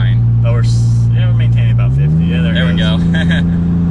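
A 3rd generation Toyota Tacoma engine drones steadily while driving around 50, its pitch stepping up as the transmission shifts gears, heard loudly from inside the cab under someone talking.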